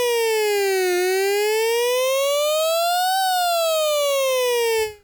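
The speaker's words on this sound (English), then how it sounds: "that's already starting to sound like not a synthesizer, a siren" A synthesized siren tone, loud and alone, whose pitch glides slowly down, then up, then down again in a smooth wail before cutting off at the end.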